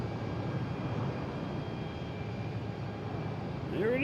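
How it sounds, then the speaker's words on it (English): An Airbus A320 arriving from Minneapolis roars on approach to runway 22 Left at Boston Logan International Airport, a steady distant engine rumble that swells slightly at the end. "It's an A320 coming in from Minneapolis."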